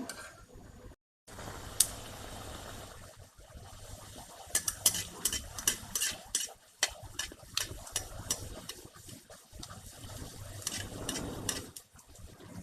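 Masala puris frying in hot oil in a home kitchen, with a steady low sizzle and occasional clinks of a metal spoon or ladle against the pan as they puff and are turned, no voices.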